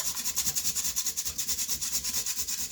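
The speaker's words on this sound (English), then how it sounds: "I'm going to grate a potato." A potato is grated for potato pancakes, the rapid, rhythmic rasping strokes repeating evenly and close up, quiet and with no talking.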